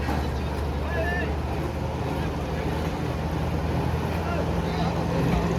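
A fishing boat's engine rumbles steadily, low and continuous, with wind and water noise around it and faint voices in the background.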